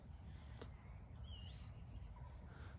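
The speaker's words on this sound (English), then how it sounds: "All the little birds getting ready to nest." Small birds chirp and tweet faintly in spring countryside along a hiking route, a few brief distant calls over a steady low wind or ambient rumble.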